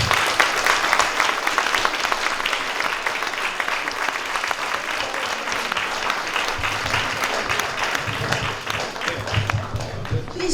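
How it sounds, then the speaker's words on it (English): Sustained audience applause fills a community hall after a mayoral candidates debate, a dense steady wash of many hands clapping throughout, with a voice briefly speaking over it near the end. "please, let's give them a nice round of applause."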